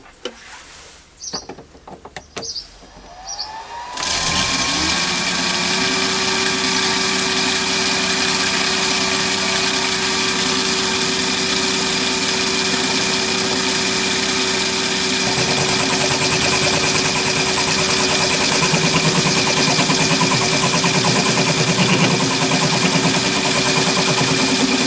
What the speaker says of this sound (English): I'm going to do some facing off and turning and see how that performs.